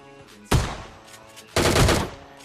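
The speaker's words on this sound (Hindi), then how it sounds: "मेरे को गन साउंड आते हैं" Two loud bursts of PUBG Mobile Lite gunfire in quick succession, the second longer and sustained like rapid automatic fire, with no talk over them.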